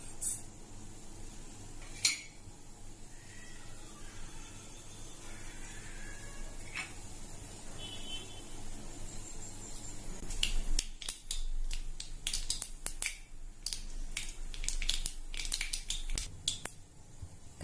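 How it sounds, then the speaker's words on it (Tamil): Mustard seeds spluttering in hot oil while tempering tomato rasam in a kitchen, starting faint and then breaking into a quick run of sharp, close crackles and pops. "தாளிக்கிறதுக்கு எண்ணெய் விட்டுருக்கேன். கடுகு போட்டுக்கலாம்."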